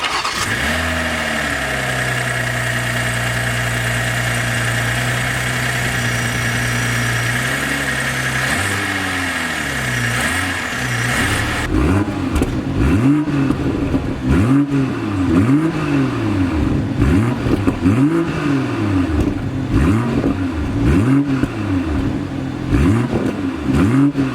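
A 2024 BMW M240i xDrive's 3.0-liter twin-turbo inline-six idles steadily, then fires up and revs hard in a series of rising and falling bursts, loud and close.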